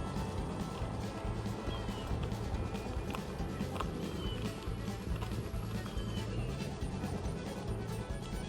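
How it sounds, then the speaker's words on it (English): Horses pulling wagons on a pioneer camping journey, a steady wash of hoof clip-clops and movement under constant outdoor noise, with no clear voices. "But we have all sorts of wagons on this journey, and they have their horses"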